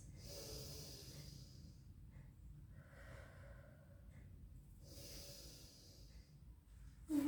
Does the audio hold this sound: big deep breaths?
yes